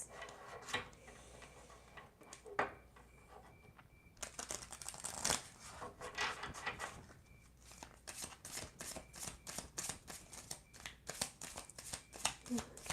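Romance angel oracle cards are shuffled for a soulmate reading, giving repeated soft riffling and flicking sounds in bursts across the clip with quiet gaps between, close and fairly faint, with no talking.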